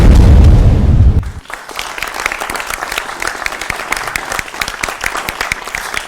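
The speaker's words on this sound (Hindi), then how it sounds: "आपके लिए जोरदार तालियां" A studio audience bursts into loud, sustained applause, a dense field of clapping hands that carries on steadily and fills the room.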